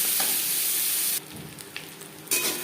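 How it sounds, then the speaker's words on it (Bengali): Potatoes frying in a pan, a dense hissing sizzle that drops briefly in the middle as if stirred, then returns loud. "4-5 মিনিট আলু ভেজে নেওয়ার পর এতে দিয়ে দেব একটা রসুন।"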